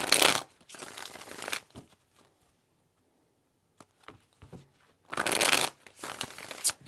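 Tarot cards riffle in two loud bursts of shuffling, separated by a quiet stretch of small taps and handling sounds, close up with no speech.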